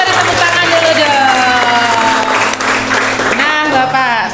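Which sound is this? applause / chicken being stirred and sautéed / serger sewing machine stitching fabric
applause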